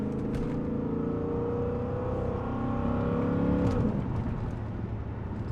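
A Lexus LS400 V8 with dual universal mufflers and the resonator deleted, exhaust valve open, rumbles loudly and steadily, its tone dropping as it blips through a downshift near the end.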